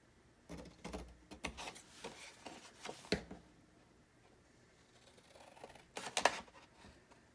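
Scissors snip angled corners off 12x12 craft paper, a run of quiet crisp cuts and rustles, a pause, then a final sharper snip, close and faint.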